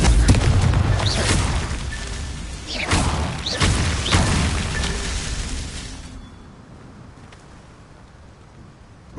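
Confringo blasting-curse explosion in the video game Hogwarts Legacy, a series of heavy booms with whooshing bursts and crashes, dying away into a quiet tail.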